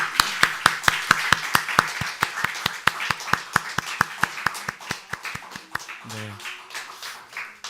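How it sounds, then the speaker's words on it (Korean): A church congregation at a Korean Sunday morning service claps together in a steady, evenly spaced rhythm to welcome newly baptized members. The sharp, close claps keep a regular beat and briefly give way to a short spoken word. "박수로 크게 환영해 주시죠"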